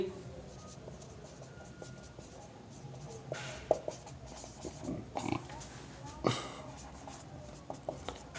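Pen scratching out a surface-area formula by hand during a maths lesson, with faint, irregular strokes and a few sharper taps, quiet and close.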